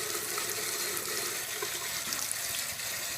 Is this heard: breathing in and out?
no